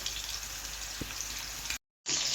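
Hilsa fish frying in a pan, giving off a loud, continuous close sizzle that cuts out abruptly for a moment and then resumes brighter.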